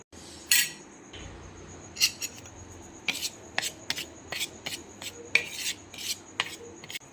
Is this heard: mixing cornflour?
yes